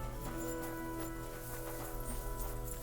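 A horse in the medieval video game Kingdom Come: Deliverance II moves with soft, steady clip-clop hoofbeats over a quiet background bed of game ambience.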